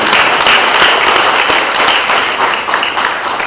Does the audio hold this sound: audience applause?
yes